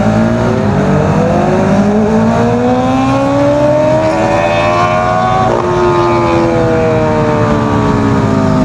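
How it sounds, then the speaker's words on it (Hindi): A superbike passes by on a road with a loud, rising exhaust note, its engine pitch sweeping upward and then dropping near the five-second mark as it goes by, heard clearly against steady road and wind noise. "आगे एक सुपर बाइक जा रही है"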